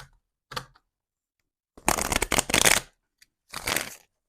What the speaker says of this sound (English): So if you can hear the shuffles.